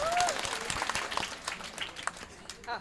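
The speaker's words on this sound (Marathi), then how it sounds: "एकदा टाळी वाजा आमच्या कृष्ण महाराजाचा जोरात." An audience applauds Krishna Maharaj at a devotional kirtan gathering, a dense, fairly steady patter of clapping that swells and thins over a few seconds, with a voice talking over it.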